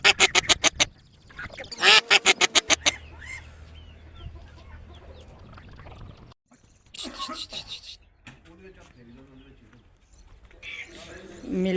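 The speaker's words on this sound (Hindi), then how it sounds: "मिलकर दोनों बतखें खेल रही हैं" Ducks quack in loud, rapid bursts at close range, with pauses between, while a person talks in between the calls.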